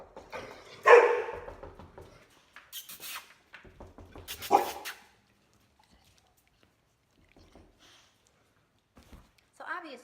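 A dog barks at a knock on the door, with a couple of sharp barks and some whimpering, close by, mixed with a person talking and followed by near silence.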